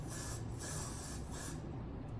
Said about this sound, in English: So I'm about to spray it.